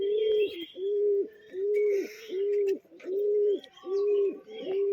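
A pigeon in a loft coos in a steady repeated rhythm, about seven loud, close, even notes in a row, with faint chirps from other birds in the background and no talking.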